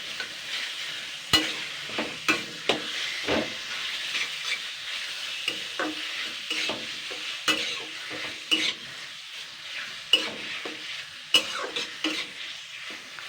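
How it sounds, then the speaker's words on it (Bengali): Taro leaves (kochu shak) being stirred and fried in a pan, a steady sizzle broken by repeated scraping stirs, close and moderately loud with no talk. "তো এটাকেই কিন্তু আমি আগে ভালো করে নাড়াচাড়া করে নেবো"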